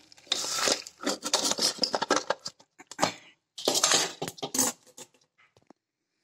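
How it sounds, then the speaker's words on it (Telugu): Spices being pounded in a stone mortar for a peanut curry: loud, close, uneven bursts of thudding, grinding crunches come in two clusters separated by a brief pause, then die away. "నేను రోట్లో వేసుకొని దంచుకుంటున్నా"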